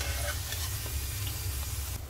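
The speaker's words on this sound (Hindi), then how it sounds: "टिक्कियों को फ्राई कर लीजिए।" Bean-flour (besan) tikkis fry in a pan with a steady, close sizzle and light stirring clatter throughout, the crackle dropping away briefly at the very end; no talking.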